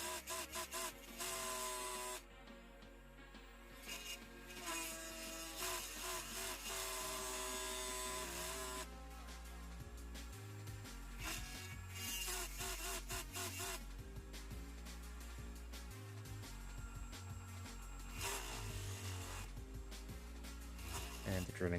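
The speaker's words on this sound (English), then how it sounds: "Now let's crack on to the drilling." A small drill bores into a Matchbox Peugeot 205 Turbo 16 die-cast model car, whirring in bursts of high-pitched grinding with short pauses between passes, close and fairly steady throughout.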